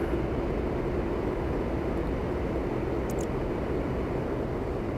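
Steady broadband engine drone of a military aircraft coming in to land in a flight simulator game, continuous and even throughout with no voices.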